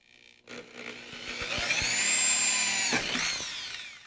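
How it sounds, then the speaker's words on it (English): A power drill whirs up to a high, strained whine as it bites through the center of a plastic parrot play gym part for a couple of seconds, then winds down. "we're going to take our drill, and we're just going to drill straight through the center"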